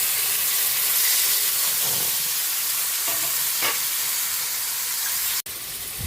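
Chicken being added to a hot pan and frying for pakbet, a loud, steady, close hiss and sizzle that runs throughout, with a few faint stirring knocks and a brief dropout near the end.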